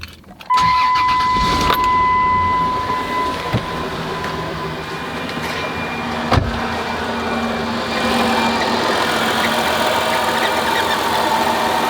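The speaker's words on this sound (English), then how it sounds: "the AC compressor was out, that it was rattling and making noise" A van's engine runs with a faulty AC compressor that rattles loudly. It makes a constant mechanical drone with a steady whine on top and a few sharp clanks, and no one speaks.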